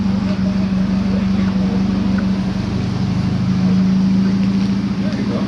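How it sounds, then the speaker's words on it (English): Tank engine revving up in first gear, a loud, steady low droning hum with a strong pulsing low tone and a slight rise in level, constant throughout. "Revving it up, got it in first gear."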